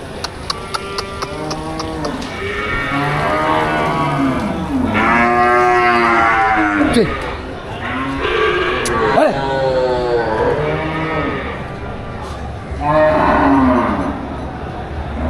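Cattle at a busy cattle market low and moo repeatedly in long, loud calls, with several animals overlapping, hooves clopping and people talking throughout.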